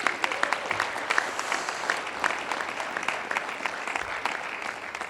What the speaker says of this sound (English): So let's give Kim a round of applause.